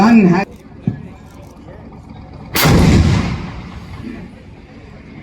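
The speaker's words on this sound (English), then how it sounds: "It can fire a burst of 3 rounds in range, as the gun can fire up to a range of 39 kilometers." A large artillery gun fires once during a military exercise, a loud close boom that rolls and decays over a couple of seconds. Someone speaks briefly before the shot.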